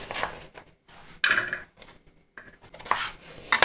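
Raw green mango pieces are shifted into a bowl, giving short scattered clinks and scrapes of vessel and utensil with quiet gaps between them, close by and with no talking.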